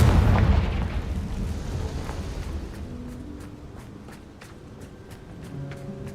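A Confringo fire spell in a Harry Potter video game sets off a heavy booming explosion right at the start, which fades into a long rumbling tail with faint crackles.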